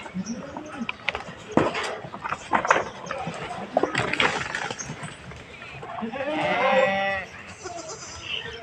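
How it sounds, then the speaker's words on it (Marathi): Young Sirohi-cross goat kids on a farm bleat in the morning sun. Scattered sounds and rustling lead up to one clear, wavering bleat near the end, heard at moderate distance. "आपली ही शिरोईची पिल्ले आहेत हे पा सगळ्यांच्या अंगावरती मस्त असे स्पॉट स्पॉट आहेत"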